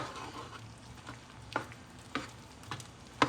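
Apple pie empanada filling is stirred in a hot pan, a soft sizzle underlying several distinct scrapes and taps of a utensil spaced about half a second apart, close and fairly quiet.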